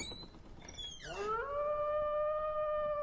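A wolf howls in a narrated Little Red Riding Hood storybook: a single long howl that rises and then holds a steady, clear tone, fairly close and alone.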